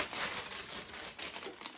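Butcher paper being handled and crinkled while sublimating a sports bra, a steady run of close, loud crackling and rustling with no voices.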